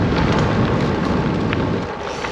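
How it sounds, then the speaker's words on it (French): Strong headwind with gusts roaring over the microphone during a long gravel bike ride, a dense steady buffeting rush filling the whole moment, no talk. "depuis tout à l'heure il souffle pleine face, il doit être à 20-25 km/h et il y a des rafales à 40-45"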